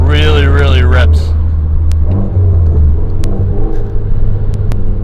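A 400 bhp Mitsubishi Evo X pulls hard with a deep, loud engine rumble and rising whir, while a voice exclaims over the start of the run and sharp clicks punctuate the drive.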